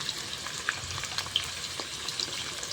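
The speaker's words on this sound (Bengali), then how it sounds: "আলুটা আগে ভেজে নেব" Potato pieces fry in oil in a home kitchen pan, giving a soft, continuous sizzle with scattered small pops and the occasional light clink of stirring, with no one speaking.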